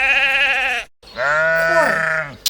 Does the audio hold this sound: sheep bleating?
yes